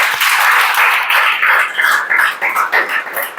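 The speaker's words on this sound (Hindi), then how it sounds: "जोरदार ताली बजाओ कर लिए जी।" A classroom of students claps loudly together for a sustained stretch, the applause dense at first and then breaking into uneven, choppy bursts as it tapers off.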